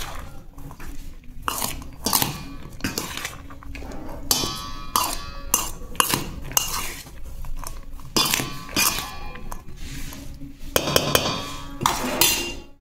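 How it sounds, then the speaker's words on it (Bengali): Boiled potatoes, peas and cauliflower mixed with oil in a bowl, giving repeated close clinks and scraping knocks of utensil against the bowl in an uneven rhythm. "সব দিয়ে আবার ভালো করে মিশিয়ে নেওয়া হবে।"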